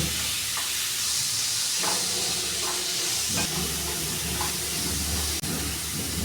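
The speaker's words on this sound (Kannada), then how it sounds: "ಗೋಲ್ಡನ್ ಕಲರ್ ಬರೋವರೆಗೂ ಫ್ರೈ ಮಾಡ್ತೀವಿ" An egg fries on low flame in a pan with a steady soft sizzle and hiss, broken by a few faint stirring clicks, close and fairly quiet with no talk.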